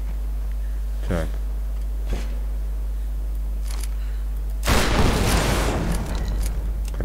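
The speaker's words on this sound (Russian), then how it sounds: "Салюты." Fireworks burst in the Tomb Raider video game, a few muffled distant booms followed by a louder crackling explosion, all over a steady low game hum.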